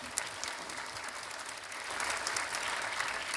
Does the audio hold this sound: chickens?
no